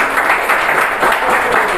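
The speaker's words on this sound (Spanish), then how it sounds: "Dar un aplauso al Señor en esta mañana" A church congregation claps during a Spanish-language worship service, a short burst of dense, close applause from many hands at steady loudness.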